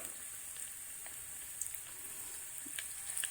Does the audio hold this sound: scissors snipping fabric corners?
no